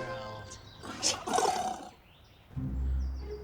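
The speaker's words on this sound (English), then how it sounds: "sounded like a baby dino, but even smaller" A tiny creature lets out squeaky, growling roars in short bursts, then a low rumbling snort follows, close and fairly quiet.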